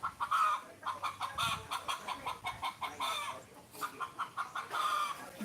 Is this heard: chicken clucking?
yes